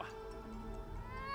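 A cat meowing in the video game It Takes Two, a single drawn-out mew heard over a low, steady game background hum.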